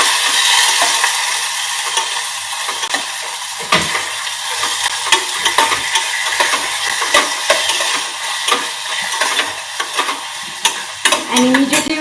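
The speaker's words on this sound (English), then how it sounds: "Tomatoes do spit as you put them in oil" Quartered tomatoes dropped into hot oil with garlic and ginger, a loud steady sizzle full of spitting crackles, with a spoon stirring and scraping the pot now and then.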